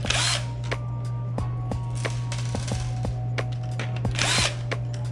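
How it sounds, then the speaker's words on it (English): Power screwdriver backing screws out of a Pioneer DDJ-SR2 DJ controller during repair, a steady close motor whine with repeated sharp clicks and ticks of the bit on the screw heads, over a constant low hum. "remove all these screws that correspond to this board"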